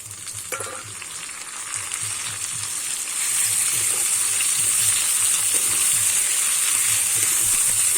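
Ghetkol leaf paste fries with small shrimp and garlic in a pan, a steady close sizzle that grows louder partway through, with faint stirring and no talk.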